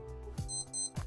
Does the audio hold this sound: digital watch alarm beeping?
yes